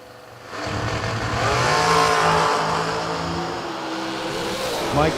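A dragster engine at a drag-racing event revs hard, ripping on the throttle a couple of times with a loud, sustained roar that rises and holds, then drops back, heard fairly close.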